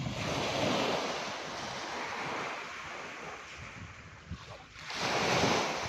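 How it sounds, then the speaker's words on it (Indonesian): Waves roll onto the white-sand shore of Tanjung Kelayang beach in Belitung, a broad steady wash of surf mixed with wind buffeting the microphone, rising again near the end. "langsung menuju ke pantai Tanjung Kelayang"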